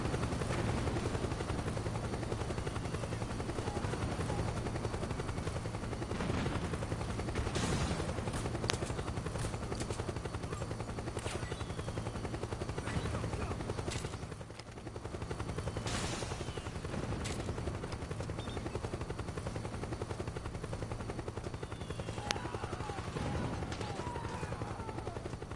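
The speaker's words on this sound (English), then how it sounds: "I really hope this chopper doesn't see me." A helicopter in the video game Metal Gear Solid 4 on PS5, a steady, dense rotor drone running throughout with sharp gunfire-like cracks scattered over it, and no talking.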